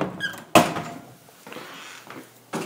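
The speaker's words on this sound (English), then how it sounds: "I'm going to shut some doors here." Indoor doors being shut: a short squeak, then a sharp close thud, quieter rustling, and a second thump near the end, all nearby and with no talking.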